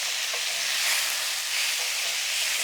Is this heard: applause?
no